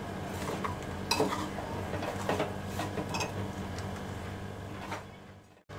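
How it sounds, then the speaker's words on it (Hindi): Roasted vermicelli (sevaiyan) stirred in a pan for about two minutes, a steady dry scraping and rustling with spoon clinks against the metal, close and continuous before stopping abruptly. "दो मिनट तक सेवैया को भून दिया"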